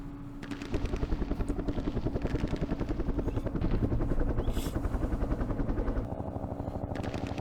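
Helicopter gunships in the Vietnam wargame Campaign Series Vietnam thump with loud, rapid rotor chop that holds steady for several seconds, then shifts and eases slightly near the end.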